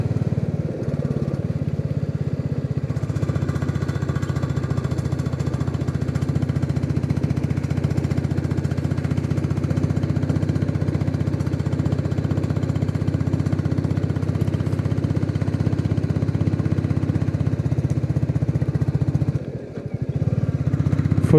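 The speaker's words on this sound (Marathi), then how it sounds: "रॉ बुलेटचा आवाज बघा," A Royal Enfield Bullet motorcycle labours up a steep coastal hill in a high gear, its engine giving a steady, loud, thumping drone that runs almost unbroken and dips briefly near the end.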